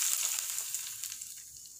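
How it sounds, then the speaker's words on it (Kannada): Oil and mustard seeds sizzling in a pan for tempering while making crispy ambode, a steady close crackle that fades slightly toward the end, with no talking. "ಒಂದು ಸ್ವಲ್ಪ ಎಣ್ಣೆ ಮತ್ತು ಸಾಸಿವೆ ಹಾಕ್ಕೊಂಡಿರೋ ಒಗ್ಗರಣೆನ ಮೇಲೆ"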